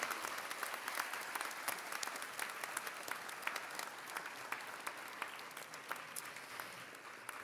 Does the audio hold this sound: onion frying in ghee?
no